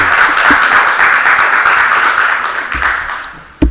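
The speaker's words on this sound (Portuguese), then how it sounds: "Vamos aplaudir a vida do Ederson em nome de Jesus." Church congregation applauding during a service, a steady wash of many hands clapping that fades slightly toward the end, with a sharp bump just before it stops.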